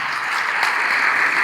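Applause from an audience at an evening honoring ceremony for an artist: dense, steady clapping from many hands, fairly loud and continuous, with no talking.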